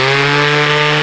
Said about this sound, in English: got another Makita sander here. Pretty good, except for the noise.